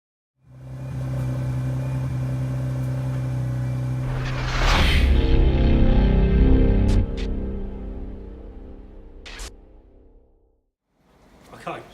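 A Mazda RX-8 rotary engine cranks and fires during a Seafoam treatment, running with a steady droning hum, briefly rising louder, then shutting off into silence before a short restart.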